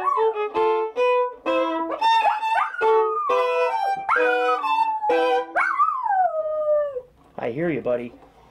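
A dog howls along to a Guarneri del Gesù 'il Cannone' copy violin playing Bach, with long sliding wails alternating with bowed notes, close and clear, ending on a wavering howl.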